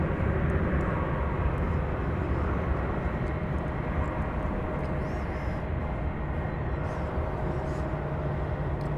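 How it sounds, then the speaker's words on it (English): An American Eagle Embraer 175 airliner takes off at DFW Airport with a steady, broad jet engine roar that holds strong throughout, heard at a distance with no talking. "Off goes American Eagle 3561, if I had it right. It's going to El Paso. It's an Embraer 175."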